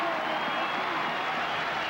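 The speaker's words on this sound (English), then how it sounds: "And listen to the crowd." A baseball crowd at a Yankees versus Blue Jays game in Toronto makes a steady, distant roar of cheering and scattered applause, with a broadcaster talking over it.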